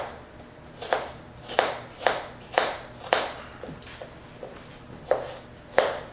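An apple being chopped on a cutting board, about ten crisp knife thuds in an uneven rhythm, close and distinct over a quiet background.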